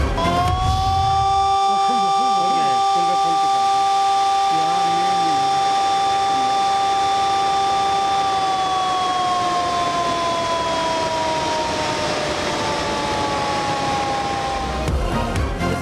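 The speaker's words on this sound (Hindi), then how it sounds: "स्पिलवेज खोलने से पहले सायरन बजाए गए" Warning sirens at Rawal Dam sound before the spillways open, a long steady wailing tone that holds, then slowly falls, loud and continuous with speech faintly underneath.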